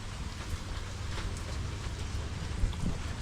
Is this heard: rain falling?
yes